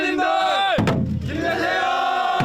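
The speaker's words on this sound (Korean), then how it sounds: "북치고 장구치고 선배 수험생을 응원하는 후배들의 뜨거운 함성이 울려 퍼집니다" Students shouting a loud, sustained cheer in unison outside a national exam site to support the test takers, with a brief sharp thump partway through.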